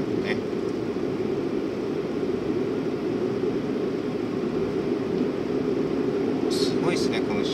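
Airplane overhead: a steady, broad, distant roar holds at even loudness throughout, with faint brief clicks near the end.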